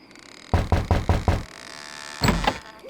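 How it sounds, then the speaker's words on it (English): A door is knocked on in The Secret of Monkey Island, five quick, evenly spaced raps followed by a brief pause and then a louder clattering thud. "I think I'll knock."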